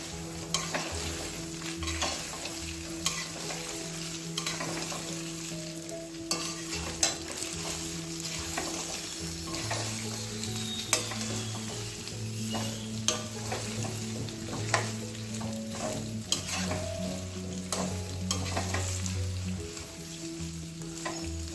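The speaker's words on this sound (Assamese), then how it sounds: "এইখিনি মই এতিয়া ভালকৈ লৰাই দিম।" Jackfruit pickle frying in oil in a pan while being stirred: a continuous close sizzle with frequent scraping and tapping of the spoon on the pan, steady throughout and with no voices.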